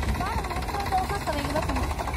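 A tractor engine runs with a steady low rumble and rhythmic knocking throughout, close by, while voices talk over it in a rural onion-harvesting setting.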